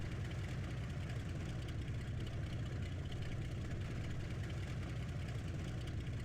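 Small airplane engine idling after landing, a low steady drone held at an even level throughout, with no talk over it.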